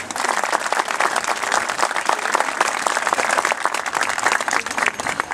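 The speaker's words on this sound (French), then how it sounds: "Christophe, je crois que vous pouvez déjà l'applaudir." A crowd gathered for a new folklore statue in Binche, Belgium, applauds the sculptor, a thick, continuous roar of close clapping sustained evenly throughout.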